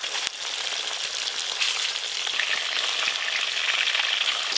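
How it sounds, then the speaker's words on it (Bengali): Katla fish belly pieces frying lightly in oil, a close, even sizzle with scattered crackles and a few sharp spatters, steady and alone without speech. "কাতলা মাছের পেটি কিন্তু খুব বেশি কড়া করে ভাজবো না, একদম হালকা করে ভাজবো।"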